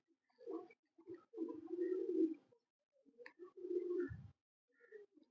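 A large breeder pigeon coos close by in several low, throaty phrases separated by short pauses, with no voices over it.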